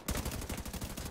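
A quick burst of automatic gunfire from The Division 2, about a dozen sharp shots in steady rapid rhythm, close and loud with no voices over it.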